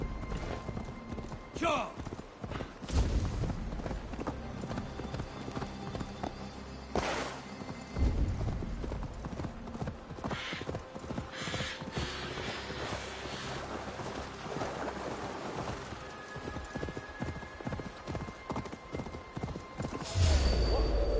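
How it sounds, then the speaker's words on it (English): Horse hooves clip-clop and pound in Assassin's Creed Valhalla on PS5, rapid galloping beats under shouting voices, with wind and water ambience and a whinny-like burst near the start. "Stop that horse!"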